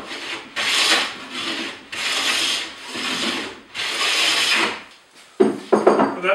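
A hand plane skims along the wooden edge of a cupboard door in a series of rasping, scraping strokes about a second apart. A few quick, sharper scrapes follow at the end. No voices are heard.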